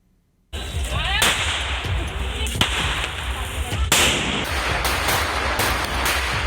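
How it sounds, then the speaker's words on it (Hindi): Firecrackers and fireworks burst during Diwali celebrations, a string of sharp cracks and pops at varying distances over a continuous rumbling background of crowd and street noise. "दिवाली पर आतिशबाजी जमकर हुई"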